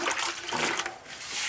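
Water poured into thin-set mortar mix for setting wood-look tile, a close, rushing splash and trickle lasting about a second and a half.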